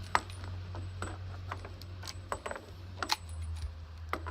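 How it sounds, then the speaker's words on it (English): Tin snips cutting stainless steel mesh while building a homebrewing mash tun, a string of sharp metallic clicks and snaps at irregular intervals over a steady low hum, close and fairly quiet. "I just have some tin snips"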